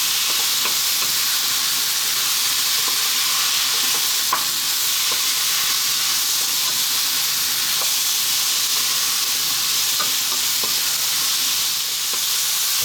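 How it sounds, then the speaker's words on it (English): Pork belly and broccoli with Chinese five-spice stir-frying in a pan, a loud, steady sizzle and hiss running throughout with occasional soft scrapes of stirring. "We're now going to reintroduce our pork. And again, another 2 to 3 minutes, stirring all the time."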